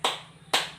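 Two sharp claps from a class doing a concentration clap rhythm in a classroom lesson, spaced about half a second apart, each a bright burst with quick decay, no talk.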